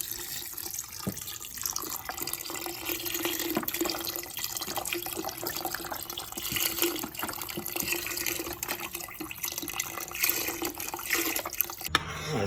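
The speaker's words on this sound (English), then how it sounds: "So far all I did was I added 4 more cups of water, some chicken bouillon, and then some of my seasonings." Water poured into a simmering Louisiana Cajun gumbo pot gives a continuous, close splashing and gurgling stream, steady throughout and ending abruptly, with no speech.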